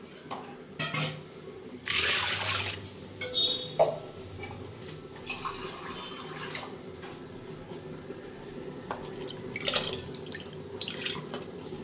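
Water runs and splashes into a pot of rice for cooking in uneven bursts, with faint drips and clinks in a quiet room.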